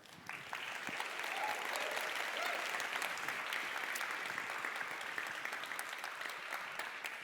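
Sustained applause from a large conference audience, steady dense clapping that holds at an even loudness throughout, with no voices over it.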